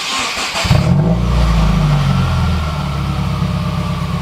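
A 2015+ Subaru WRX with a catless downpipe and muffler delete fires up and settles into a loud, deep, burbling idle, close and steady with no talk.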